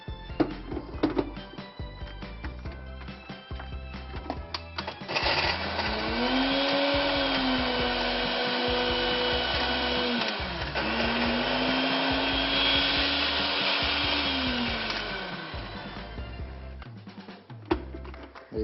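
A kitchen blender crushes biscuits for a banoffee pie base, starting after a few knocks and whirring loudly for about ten seconds with a brief dip in pitch midway, then stopping with more light clatter.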